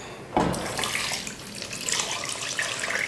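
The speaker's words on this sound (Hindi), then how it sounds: "तकरीबन 3 से 4 गिलास हम पानी डाल देंगे।" Water pours steadily into a bowl of besan and yogurt mixture, a splashy gushing stream that starts abruptly and runs continuously up close, with no talking.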